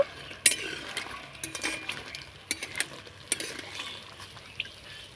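Crisp fried nimki are lifted out of hot frying oil: a soft sizzle runs under scattered metal clinks and scrapes of a slotted spoon against the pan, close and moderately quiet, with no talking.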